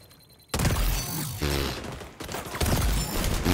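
Heavy gunfire in the shooter game XDefiant, an abrupt loud burst of rapid shots followed by further volleys and mechanical clatter, dense and close, with brief gaps between bursts.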